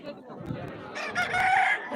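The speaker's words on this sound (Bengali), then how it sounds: "ওইখানে একটা মুরগি আছে" A rooster crows nearby in a short, strained call, with faint chatter and background noise of a village fair ground around it.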